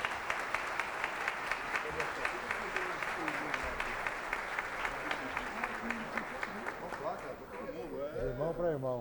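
Applause from an audience at a solemn session marking 350 years of the Diocese of Rio de Janeiro, steady dense clapping throughout that thins near the end as a voice begins speaking.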